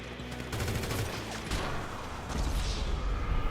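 Rapid gunfire bursts in GTA Online, a dense fusillade of game weapon shots with crashing effects, loud and continuous throughout without talk.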